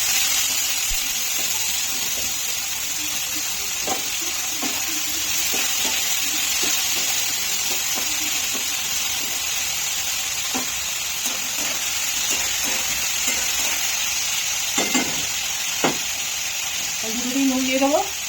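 Bitter gourd and potato fry in a pan while being stirred, a steady close sizzle with occasional scraping, and a voice briefly speaks near the end.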